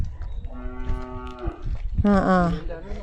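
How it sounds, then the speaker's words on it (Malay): Cattle on a government-run cattle farm in Kedah, with two loud, close moos: a long bellow in the first half, then a stronger, rising call near the end, with no talk over them. "lembu tu panggil"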